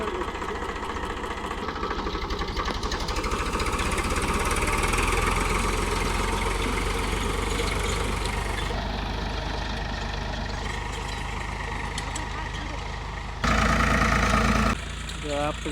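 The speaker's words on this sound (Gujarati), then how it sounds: "આપણે ટ્રેક્ટર જાય છે સીણા વાવાતું" A tractor engine runs steadily in a field while sowing chickpeas after the cotton harvest, a close mid-pitched chugging drone with people talking over it.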